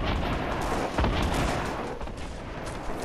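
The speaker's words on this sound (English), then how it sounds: "He's shooting grenade launchers." Grenade launcher shots in the Fortnite video game: a dense, rumbling wash of game gunfire and booms with one stronger blast near the start, fairly quiet and continuous.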